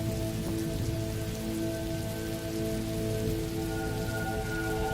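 Steady, gentle rain patters continuously on green leaves, a soft, even hiss close by with no voices.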